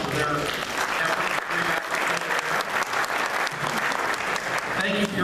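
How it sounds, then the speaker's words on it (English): An audience claps for the crew at a senatorial debate in Anchorage, Alaska, a full, sustained burst of applause filling the hall throughout, with a faint voice or cheer mixed into the crowd noise. "if we could have a round of applause for their effort"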